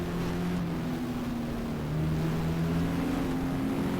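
A race car engine in the GTR2 racing game at Monza holds a steady, droning note, slightly rising partway through, heard alone and up close.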